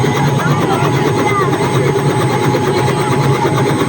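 A helicopter's steady rotor and engine roar fills a school field during landing, loud and continuous, with crowd voices and talk mixed underneath.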